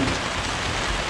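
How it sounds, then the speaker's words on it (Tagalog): Steady rain pours down on a construction site where a septic tank is being built, a dense, even hiss of drops striking surfaces with no breaks. "Ngayon, umulan."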